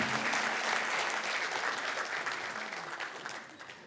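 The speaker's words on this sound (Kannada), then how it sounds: "ಗೋಪಿಯವ್ರಿಗೆ ಒಂದು ಚಪ್ಪಾಳೆ ಕೊಡೋಣ" An audience at a live comedy show bursts into dense, sustained applause that stays loud and close, then gradually thins and fades toward the end.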